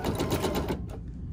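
An embroidery machine stitches with orange thread, a close, steady mechanical whir with rapid needle pulses that drops off sharply near the end of the short clip.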